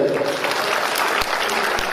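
An audience claps loudly and continuously, a dense wash of applause filling the whole moment at a Buddhist vihara national convention in Pune.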